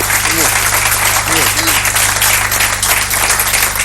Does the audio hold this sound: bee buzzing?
no